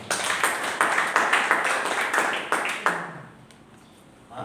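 A church congregation clapping hands in praise during a sermon, a run of roughly rhythmic group claps that stops abruptly, leaving near quiet.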